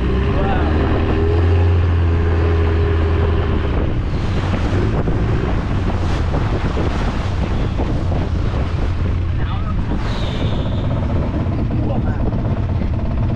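Heavy wind buffeting the microphone over a boat engine's drone and surging water on a rough sea crossing to Railay, Krabi, Thailand, loud and constant throughout.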